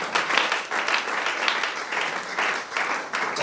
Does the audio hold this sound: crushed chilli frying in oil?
no